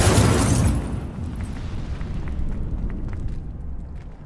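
An Incendio fire spell blast in Hogwarts Legacy on PS5 opens with a loud, broad whoosh of flame that fades after about a second into a low, crackling rumble that lingers to the end.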